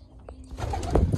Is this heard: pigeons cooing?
yes